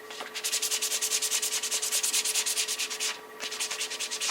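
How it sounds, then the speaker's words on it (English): Rubber surface being roughened by rapid back-and-forth rubbing, a steady scratchy rasping with a quick regular stroke rhythm, close and fairly loud, pausing briefly before resuming; no talking. "This rubber is pretty slick. I wonder if I could roughen it up,"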